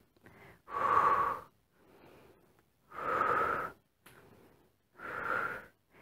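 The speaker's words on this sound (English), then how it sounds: "So you exhale when you pull it up, and inhale when you lower your leg." Heavy breathing during a core leg-raise exercise: three strong, breathy exhalations about two seconds apart, each followed by a softer inhale, close and with no talking.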